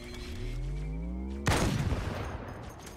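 Gunfire in the Halo 2 video game breaks in abruptly over a droning, tonal engine-like hum, with a sharp loud burst followed by rattling shots that trail off.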